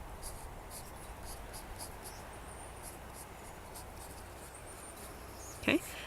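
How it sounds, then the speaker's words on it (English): A pencil sketches pine needles on paper, giving a soft, faint, continuous scratching close by with a short louder scrape near the end. "So I'm just kind of sketching the pine needles here, how they look on the ground, and a rough sketch of my stone."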